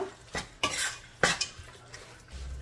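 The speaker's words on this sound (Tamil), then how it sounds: "உப்பு சேர்த்துட்டு நல்லா மிக்ஸ் பண்ணிக்கோங்க." A spoon stirs mutton and salt in a metal cooker pot, giving several close, scraping clatters in uneven strokes over quiet, with no talking.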